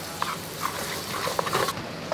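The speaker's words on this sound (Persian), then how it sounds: "اینا رو خوب مخلوط میکنیم" Soft scraping and clinking of a utensil stirring chicken and eggplant tahchin ingredients in a bowl, close and fairly quiet, with a steady background hiss.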